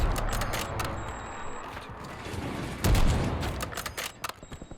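Scattered gunfire in Call of Duty Warzone, a mix of quick bursts and sharp single cracks at moderate distance, with a heavier burst near the end over a low background rumble.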